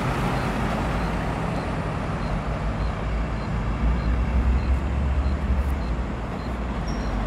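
An Águia Branca intercity bus passes by, a steady broadband engine and road roar with low rumble that swells slightly midway, continuous throughout with no talk.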